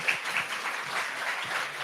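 Faint, dense applause from a conference audience at a game developers' talk forms a soft, continuous wash of clapping with no distinct individual claps.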